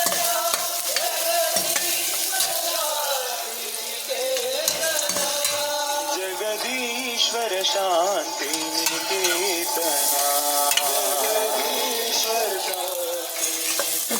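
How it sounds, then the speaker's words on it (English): Coriander seeds frying in hot oil for a kollu paruppu kadaiyal, a steady close sizzle with stirring and scraping of a spoon against the pan throughout. "Coriander seeds, putting little coriander seeds"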